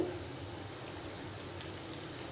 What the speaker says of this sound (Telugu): ఆ మసాలా ఈ నూనెలో వేసుకుని పచ్చివాసన పోయేదాకా వేపుకోవాలి